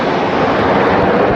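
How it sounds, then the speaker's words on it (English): A Red Arrows Hawk jet passes overhead, a loud, broad roaring rush filling the short span continuously, with no voices heard. "And there's a jet fighter!"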